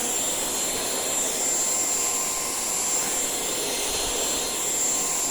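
A cordless stick vacuum cleaner runs with a steady, high-pitched motor whine and airy rush, unbroken throughout, moderately loud and close, with no voices.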